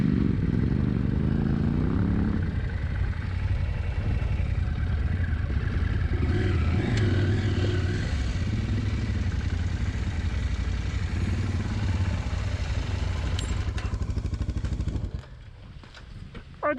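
KTM adventure motorcycle cruising along a road, a steady close engine drone with wind rush and some clatter, fading abruptly near the end.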